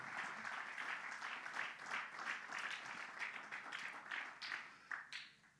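Congregation applauding the Lord during a Spanish-language church sermon, a steady wash of many hands clapping close and full for several seconds before tapering off at the end.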